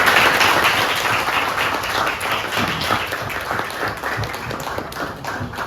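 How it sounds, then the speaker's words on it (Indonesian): A classroom of students claps together after a group finishes a seven-step disc-moving puzzle demonstration, a close, lively burst of clapping that fills the room and thins slightly toward the end. "tepuk tangan dulu"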